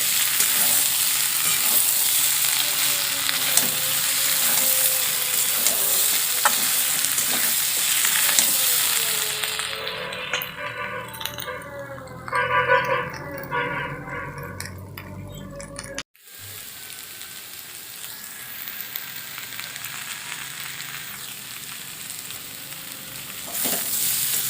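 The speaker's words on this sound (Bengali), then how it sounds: "আলুগুলো এইভাবে মশলার সঙ্গে খুব ভালো করে ভেজে নেব।" Potatoes frying with spices in a pan give a steady close sizzle with stirring, and the frying quietens partway through before the sizzle resumes, with no voices.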